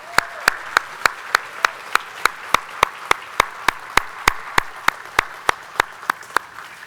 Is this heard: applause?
yes